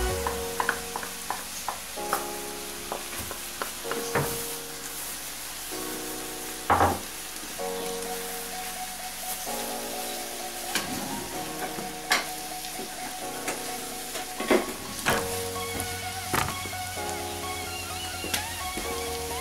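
Carrots and onions sizzle steadily in a frying pan, with repeated scraping and stirring clatter from a utensil over the continuous hiss; no talking.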